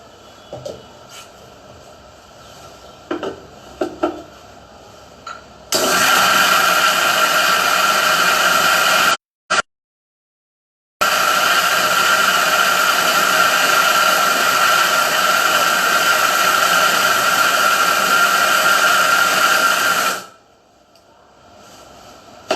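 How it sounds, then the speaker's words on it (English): A kitchen blender grinds a sweet mixture with added milk, a loud steady whirring roar that runs for about fifteen seconds with one brief stop and restart, after some quiet handling noises. "I have to blend some more actually"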